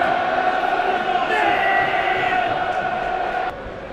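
A football crowd at Millwall's stadium, the Den, roars and chants in a sustained, dense swell during a match against AFC Bournemouth, and the noise drops off abruptly near the end.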